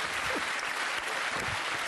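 A television studio audience applauds José Garcia, a continuous wash of clapping from a full room that stays level and fairly close, with no voices breaking through.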